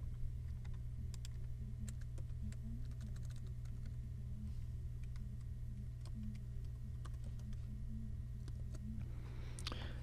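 Fingers typing on a computer keyboard, producing faint, irregular clicks in short clusters over a steady low electrical hum, with no one talking.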